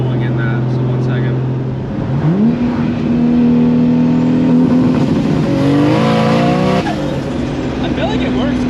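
A Nissan Skyline GT-R accelerates hard under turbo boost, its engine note climbing through steady rising tones with a gear change and tire noise, loud and close, while people talk over it.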